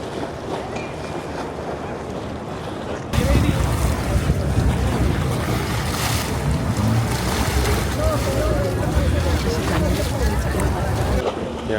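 A boat pulls up to a pier in Venice amid strong wind buffeting the microphone and splashing water; a loud, steady roar of engine, waves and wind swells in after a quieter opening.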